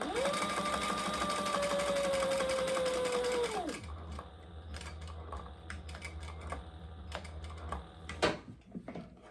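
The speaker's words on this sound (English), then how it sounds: "I am back stitching." A sewing machine whirs steadily while back stitching a wallet, then slows and stops, followed by scattered clicks and handling noises as the fabric is moved.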